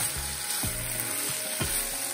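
Bitter gourd frying in a pan with pickle added, a steady quiet sizzle broken by several soft scraping stirs at a regular rhythm.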